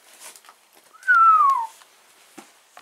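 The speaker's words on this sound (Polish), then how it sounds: "A zawsze gwizdam." A person whistles one short, clear, falling note inside an abandoned house full of old cars and car parts, with faint shuffling and tapping before and after.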